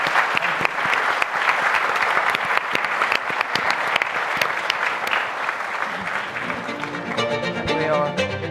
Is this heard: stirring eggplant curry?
no